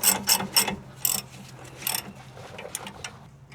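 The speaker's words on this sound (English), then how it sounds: "We're going to go ahead and get that nut started." A hand ratchet tightens a nut on the front end of a 2011 Ford F150, giving a handful of close, crisp clicking bursts in uneven strokes that grow softer and sparser toward the end.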